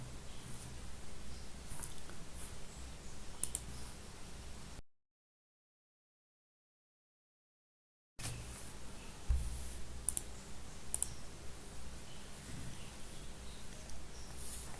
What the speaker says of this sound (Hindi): मैं इस पर क्लिक करता हूँ